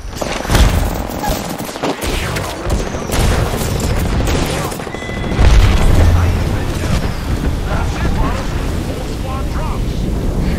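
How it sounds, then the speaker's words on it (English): Airstrike explosions in Apex Legends, a dense rolling barrage of booms and blasts running continuously and loudly for the whole stretch, with a heavier burst midway, while a player's voice talks over it. "Calling the airstrike"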